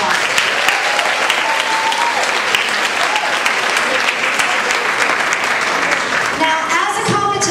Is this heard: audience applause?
yes